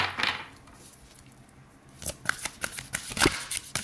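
Tarot cards being shuffled and drawn, a brief riffle at the start, a quiet pause, then a rapid run of crisp card flicks and slaps, close with no talk.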